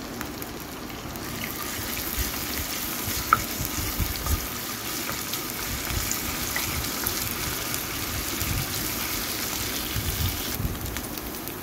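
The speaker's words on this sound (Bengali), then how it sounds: "আদা রসুন বাটা দিয়ে হালকা একটু লাল লাল করে ভেজে নেব" Steady, close sizzling of ginger garlic paste frying in hot oil, a continuous crackling hiss that holds for the whole stretch with no talking.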